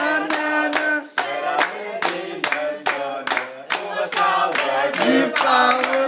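Guests clap along at a family birthday party for a mother, sharp rhythmic claps in steady time, close and loud, with singing voices running over the beat.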